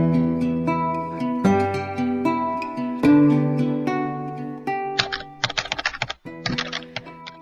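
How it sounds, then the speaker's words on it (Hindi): A white typewriter's keys clack in a closed room, scattered keystrokes over a tonal music bed that quicken into a rapid, close burst of typing near the end. "टाइपराइटर के बटन दबने की आवाज सुनाई दे रही थी।"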